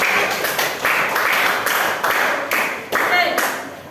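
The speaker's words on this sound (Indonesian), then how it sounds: "Beri tepuk tangan untuk kelompok 7." A classroom of students claps in a series of short rhythmic bursts, roughly every half second, close and fairly loud with murmuring voices underneath.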